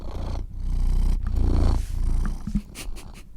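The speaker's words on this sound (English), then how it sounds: "You're going to hear my cat purring, sorry." A cat purrs loudly and close by in a long rumbling stretch, then the purr grows softer and more broken toward the end, with no talking over it.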